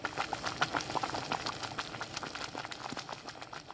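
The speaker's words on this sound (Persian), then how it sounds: "او در کنار سماور دینو می‌نشست و با قرقر آبهای جوش گوش می‌داد" Water boiling in a samovar, a steady bubbling and gurgling with dense crackling pops throughout, close and moderately loud with no voices.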